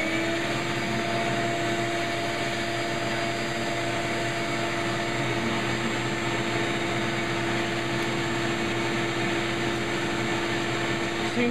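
A shop vacuum drones continuously through a Rockler Dust Right cyclone separator, a steady, loud motor whine with an airy rush and constant hum that never changes pitch, heard close and alone.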